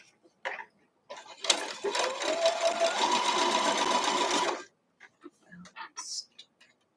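A sewing machine stitches a scrap-friendly weathervane quilt block, running in one steady burst of about three seconds with a brief pitch shift partway, framed by short bits of quiet talk before and after.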